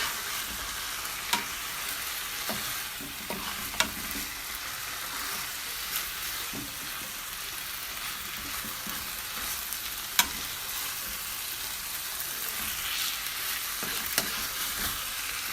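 Ackee and saltfish seasoned with black pepper, stirred in a frying pan: a steady bright sizzle runs throughout, with a few sharp spoon scrapes and clicks against the pan, close and without talk.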